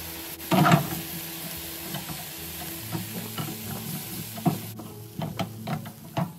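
Spiced zucchini is stirred in a pan until dry, a spoon scraping and clinking against the pan in irregular strokes over a soft steady sizzle, close up with no talking.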